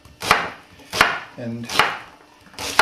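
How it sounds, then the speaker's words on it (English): A knife chops onions on a cutting board in four sharp, evenly spaced thuds about half a second apart, close and loud, with a brief spoken word between strokes. "have lots and lots of chopping done very efficiently here."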